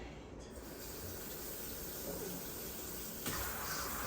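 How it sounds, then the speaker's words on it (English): Cold tap water runs over strained, cooked pasta shells in a kitchen, a steady hissing spray that continues throughout, slightly louder near the end. "Just cool them down with some cold water."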